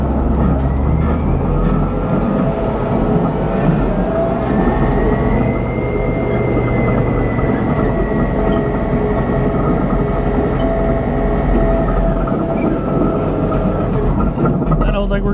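A 55-ton Chieftain main battle tank driving forward in first gear, giving a steady, heavy engine drone and rumble from inside that stays loud throughout, with occasional voices underneath.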